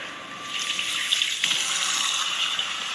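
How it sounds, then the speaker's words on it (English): Steady rush of running tap water pours for a few seconds while hands are washed under it after handling raw poultry for a home rotisserie chicken, close and continuous with no talk. "A lot of hand washing."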